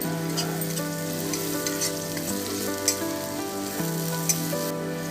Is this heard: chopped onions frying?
yes